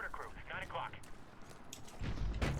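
Gunfire in the Medal of Honor video game: several sharp shots crack amid other game sounds, with a heavier pair of blasts near the end, while someone talks over them.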